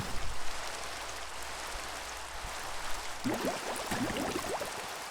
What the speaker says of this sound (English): So it comes in, makes it rainy.